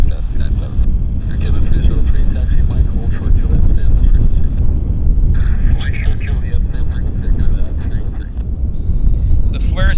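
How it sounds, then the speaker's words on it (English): A Saab 340 turboprop airliner landing at Vancouver airport, its broad, steady engine roar and wind rumble filling the whole stretch at close range, with voices talking over it. "Saab 340 landing"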